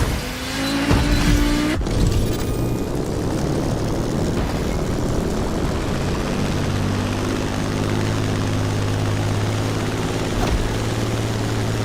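Plane flying in The Crew Motorfest video game, a loud, sustained propeller engine drone with steady tonal hum, after a brief burst of mixed noise and a sharp transition at the start.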